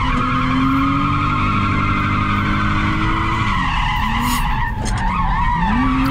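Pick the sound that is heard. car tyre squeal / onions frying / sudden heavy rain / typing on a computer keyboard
car tyre squeal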